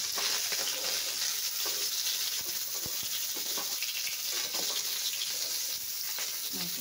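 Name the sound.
fish frying in oil in a pan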